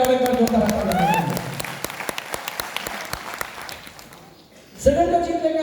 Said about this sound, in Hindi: मैं चाहूंगा एपीएलएल के लिए और एक बार जोरदार तालियां